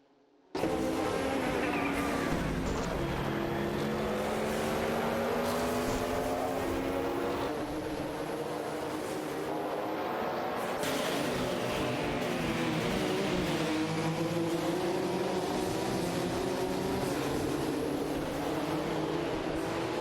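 Race cars in an AI racing video game, one including a Nissan, engines accelerating out of corners with rising and falling whines, loud and continuous after a quiet start, no talk.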